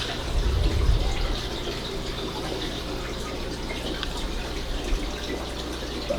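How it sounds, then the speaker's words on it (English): An aquarium powerhead fitted with an Aquarium Co-op coarse filter churns water in a 120-gallon tank, a steady trickling, splashing flow over a low motor hum, continuous and close, without voices. "I'm actually running a coarse filter from Aquarium Co-op on this Powerhead"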